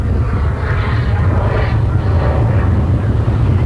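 A fiberglass composite light airplane flying in gusty wind, a steady loud engine drone and rushing air that holds constant throughout.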